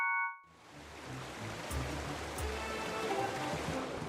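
Water in The Legend of Zelda: Skyward Sword rushes steadily and moderately loud, like a flowing stream, starting after a brief tonal sound and continuing without talk.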